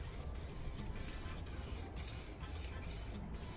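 Primer sprays onto the bodywork of a Peugeot J9 van in a homemade spray booth, a faint continuous hiss broken by short regular pulses as the can is worked back and forth, with no talk.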